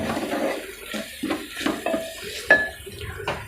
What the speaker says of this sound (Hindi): मसाला अच्छी तरह भुना गया,